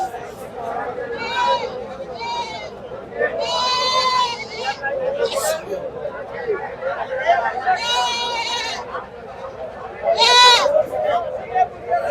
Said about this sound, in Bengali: এখানে আমরা একটা মা বাচ্চা ছাগল একটু দেখতে